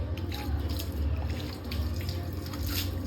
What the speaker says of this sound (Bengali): চলো এখান থেকে জল নিচ্ছি আর এরকমভাবে ধোয়াধুয়ি চলছে